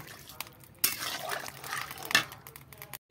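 Water poured into a pan of teasel gourd curry that has already been fried down, a steady liquid splash and sizzle with a brief clatter near the start and another midway, close and moderately loud, no talking.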